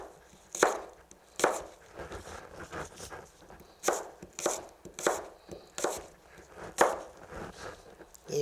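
A knife dices an unpeeled apple on a cutting board in a series of crisp, close chops, some single and some in quick bursts, with short pauses between strokes and no talking.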